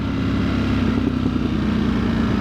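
Ducati Streetfighter V4S motorcycle engine on a test ride, a steady, loud, continuous rumbling drone with a low pulsing hum held throughout, no voices.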